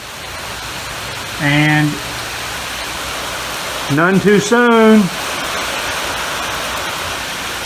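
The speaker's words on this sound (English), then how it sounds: "It is raining." Heavy rain pours down steadily around a rental property, a constant broadband hiss that fills the whole clip while someone speaks a few words over it.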